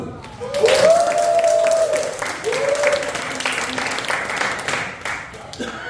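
Audience applause at a church youth group's summer retreat Bible-story play, a steady wash of clapping through the whole stretch, with a sustained voice-like tone rising over it near the start.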